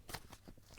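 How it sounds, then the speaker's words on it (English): Tarot cards being shuffled by hand, a quiet run of soft papery riffles and flicks lasting under a second, close and low in level with no voices. "I am gonna shuffle some cards"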